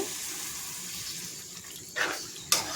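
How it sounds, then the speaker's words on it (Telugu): Water is poured into a cooking pot for a meal maker (soy chunk) curry with stuffed brinjal. It makes a steady, soft splashing hiss, with two short, brighter bursts of pouring near the end. "నేను దీనిలో వాటర్ వేసేస్తున్నాను"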